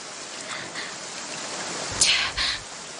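Steady rain falls as a constant soft wash in the background, with a brief louder splash of drops or movement in the middle and no talking.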